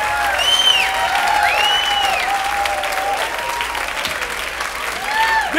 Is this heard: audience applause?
yes